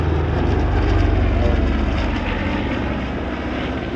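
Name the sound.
HARS C-121C Super Constellation aircraft engines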